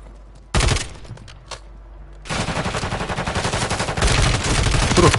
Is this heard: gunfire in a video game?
yes